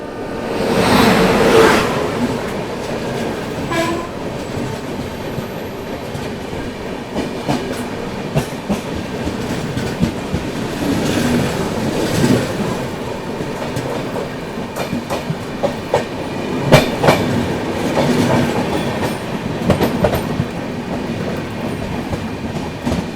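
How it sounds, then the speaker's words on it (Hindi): The Ranakpur Express, running from Dadar Western toward Hanumangarh Junction, rumbles past a level crossing in monsoon weather, loud and close, its wheels clattering steadily over rail joints with rhythmic clicks and occasional squeals for the whole pass. "सामने से आ रही है आप लोगों की दादर वेस्टर्न से चलकर हनुमानगढ़ जंक्शन की ओर जाने वाली राणकपुर एक्सप्रेस"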